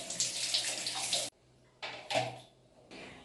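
Water runs and splashes as soap containers are rinsed in a bathroom, close and fairly loud, stopping briefly and then starting again in uneven bursts.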